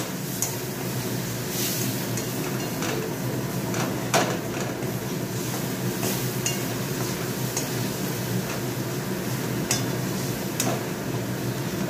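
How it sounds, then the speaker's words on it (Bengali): Spices frying and being stirred in a pan after a splash of hot water: a continuous soft sizzle with scattered scraping and light clinks of a spoon against the pan, fairly close and steady throughout. "একটু গরম জল দিয়ে দিই, আর একটু কষিয়ে নিই।"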